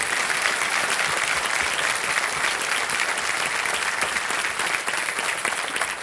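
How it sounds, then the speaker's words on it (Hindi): A crowd applauds in a steady, dense wash of clapping that lasts about six seconds without letting up. "तालियां बज जाएं"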